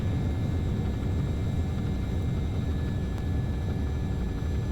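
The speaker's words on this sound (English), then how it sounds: "So there's some reverse thrusters," Reverse thrust and heavy braking on an MD-80 landing at Gibraltar in X-Plane 10 make a steady, loud, broad jet roar with deep rumble throughout, with no talking.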